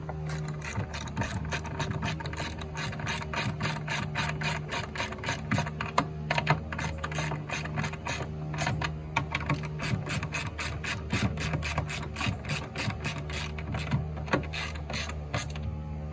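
A ratchet clicks rapidly and continuously over mechanical creaks while bolts are snugged down on Kawasaki 1100 STX body parts, a close, steady pawl rhythm with no talking.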